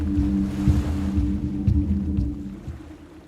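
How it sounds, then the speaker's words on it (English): Ocean waves in an animated story, a continuous low rushing surf wash with a steady hum underneath, moderately loud and fading slightly toward the end, with no voices. "And I don't hear anything but the waves."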